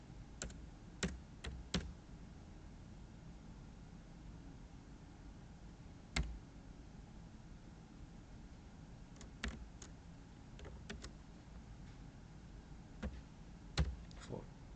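Sparse keystrokes on a computer keyboard, a few quick clusters and isolated clicks spread across a quiet room background, fairly faint and without talk.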